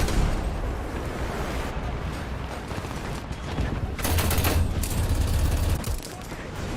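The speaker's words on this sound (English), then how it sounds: "finish him with the machine gun while you're reloading the 20 mil" Rapid machine gun bursts from the War Thunder tank battle, fired from an Sd.Kfz 234/1 armored car, loud and dense with a heavier rattling stretch near the end, layered over constant engine and battle noise.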